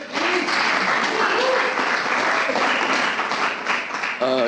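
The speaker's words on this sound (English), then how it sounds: "everyone give 2 claps to Timothy, please" An audience at a high school pitch-day event claps steadily and loudly for a student presenter, with faint voices under the applause and a spoken voice rising at the very end.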